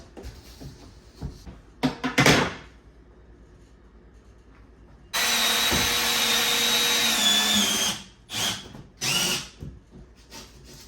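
A power tool works on backer board during a kitchen renovation, with several short bursts, then one sustained whine of about three seconds, then two more quick bursts, all close and loud with quiet gaps between.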